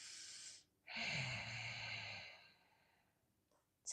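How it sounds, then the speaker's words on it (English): Breath during an Ashtanga yoga forward fold: a long, close, airy exhale through the nose or mouth, then quieter breathing, with no talk. "And breathing here."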